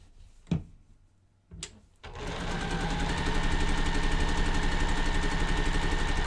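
A sewing machine stitches white and print quilt block fabric pieces together: a couple of sharp clicks, then a loud, steady, rapid run of stitching close by that carries on to the end with no talking.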